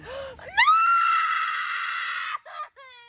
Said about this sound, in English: that's the scream you make when you lose a baby